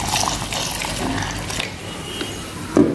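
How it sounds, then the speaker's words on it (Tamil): Thick coconut milk is poured into a pot of roasted rice and lentil porridge, giving a soft continuous liquid gush and trickle at close range, with a brief louder splash near the end. "இந்த பாலை வந்து இதில் ஊற்றி நம்ம நல்லா கிளறணும்"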